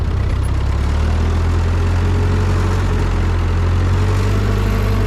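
Old Ford 9N or 2N tractor pulling a V-plow through a field for potato planting, its engine producing a steady, deep, low-pitched chug. The sound is loud, close and continuous, with no voices.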